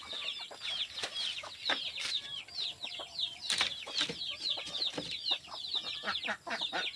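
Chickens cluck inside a coop in the countryside, a close, busy stream of overlapping short calls and squawks that runs throughout.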